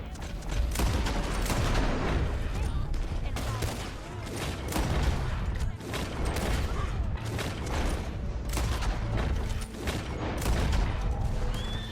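Rapid gunfire fills a Red Dead Online shootout against enemies, with dense overlapping shots cracking continuously and a voice talking underneath.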